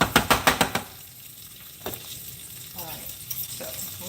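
A spoon scrapes and knocks rhythmically against a frying pan, then softer stirring and mashing of cooked mushrooms over a low sizzle, with a few quieter taps later.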